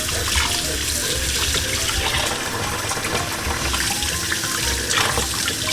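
Tap water runs steadily into a sink while a freshly caught eel is washed under it for Italian seafood cooking, a continuous close splashing rush with no talking.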